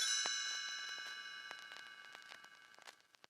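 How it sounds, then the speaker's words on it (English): Chimes ringing as a page-turn signal for a read-along storybook, a clear ringing tone that fades over about three seconds with light tinkling strikes, alone and without talk. "You will know it is time to turn the page when you hear the chimes ring like this"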